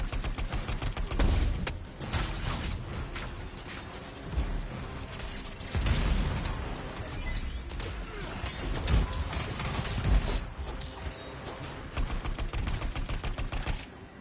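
Gunfire from the shooter game Anthem: dense, continuous rattling bursts of weapon fire with heavy thumps, loud and unbroken throughout.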